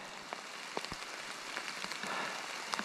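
Rain falls steadily on a wooded hiking trail beside a river, a faint even hiss broken by scattered nearby drips and taps, with no voices.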